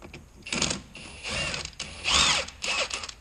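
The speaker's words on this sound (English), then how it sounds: "My torque wrench only goes to 150, so we're going to go 150" A torque wrench tightens the rear wheel bearing of a 2004 Ford Focus to 150 foot-pounds, giving several close, loud bursts of ratcheting metal sound separated by short pauses, with no talk.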